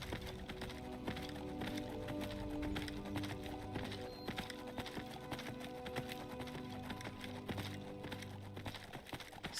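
Horse hooves clip-clop steadily in Skyrim as a summoned steed trots and runs, with a whinny mixed in over busy game music and ambience, close and fairly loud throughout.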